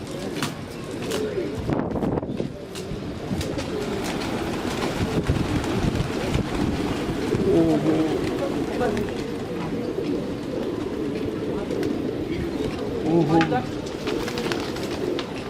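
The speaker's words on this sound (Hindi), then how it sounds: "ये आ रहे हैं इनके कबूतर।" Soft pigeon coos and bird sounds over steady outdoor wind noise, with voices talking throughout.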